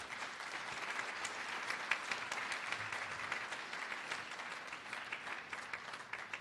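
A crowd at a charity fundraiser for a camp applauds donors, with steady, fairly quiet clapping from many people that carries on evenly without a break.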